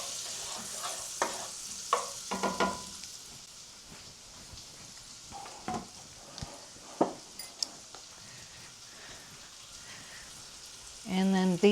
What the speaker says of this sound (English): we're going to add in the chopped shallot. And give that a good stir